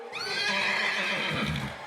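A horse whinnies in one long, loud, quavering neigh close by, at a riding event on the dirt arena at Westworld in Scottsdale, Arizona.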